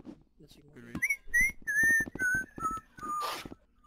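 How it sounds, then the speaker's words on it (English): A person whistling loudly during a live match broadcast, a run of sharp piercing whistled notes sliding slowly downward over about three seconds, with faint crowd and talk underneath. "That was someone whistling. That was so loud."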